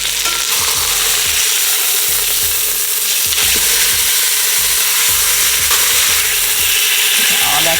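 Birria tacos frying in hot oil crackle and sizzle loudly and continuously up close, a dense, bubbling hiss with no talking.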